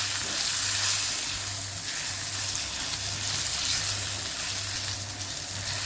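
Green chillies roasting in a pan with turmeric and red chilli powder, stirred through a steady loud sizzle that runs close and unbroken the whole time, with no voices.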